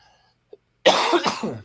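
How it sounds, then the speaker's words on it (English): A single close, loud cough bursts out after a moment of near silence, harsh and breathy, tailing off over about a second. "Hang on, I'm gonna have to cough."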